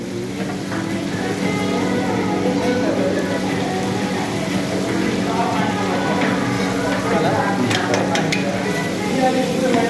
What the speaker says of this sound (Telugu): ఇప్పుడైతే అల్లం వెల్లిగడ్డ వేస్తున్నాము జింజర్ గార్లిక్ రెండు కలిపి దంచిన పేస్ట్ ఇది